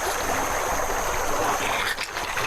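River water flows steadily with a broad, close rushing hiss and faint trickling, alone without voices.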